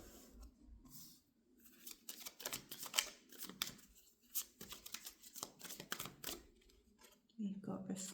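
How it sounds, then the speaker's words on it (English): Oracle cards are shuffled by hand close up, giving quick papery riffles and soft slaps in uneven bursts, with a person talking through parts of it. "we're going to get oracle cards"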